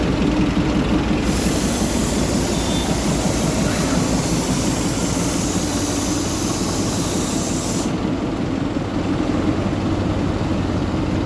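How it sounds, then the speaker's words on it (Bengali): A diesel-engine toy train with a few coaches rolls along in a continuous loud rumbling drone with hiss, steady throughout with no talk. "এটা ডিজেল ইঞ্জিন চালিত টয় ট্রেন।"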